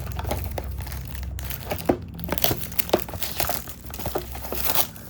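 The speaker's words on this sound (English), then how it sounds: "Let's remove the plastic cover." A plastic protective cover is peeled and crinkled off an Infinix XWatch H5 Pro smartwatch, a close run of crackling rustles and tearing crinkles with a few sharper snaps.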